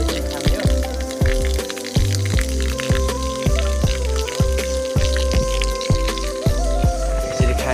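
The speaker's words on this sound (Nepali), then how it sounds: "बाँस केही चाहिँ यसरी पानी ल्याउँछ" Water running from a bamboo spout at a village tap, heard as close, irregular splashing and pattering drips over a steady flow, while background music with a repeating beat plays throughout.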